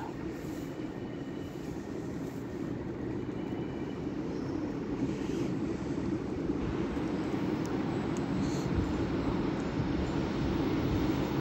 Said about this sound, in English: So now pulling in on platform 6 will be the delayed 1443 Northern service to Rochdale.